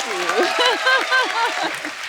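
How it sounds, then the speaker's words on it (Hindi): A studio audience on the Kapil Sharma Show applauds with a broad patter of clapping, while a prominent voice talks over it throughout the short burst. "एक बार जोरदार ताली"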